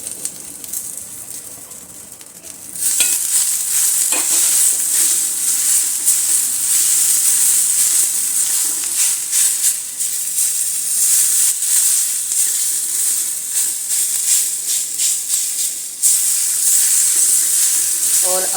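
Okra (bhindi) frying in a pan with masala added, a quieter sizzle that jumps to a loud, steady hiss and crackle once the masala goes in, continuing close and strong throughout.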